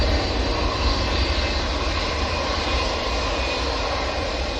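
Continuous jet engine roar from a TUI Airbus A320 airliner operated by SmartLynx at Manchester Airport, loud and even for the whole stretch without any speech.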